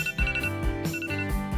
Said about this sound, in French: Oh, c'est mon réveil? Il est déjà l'heure de se lever.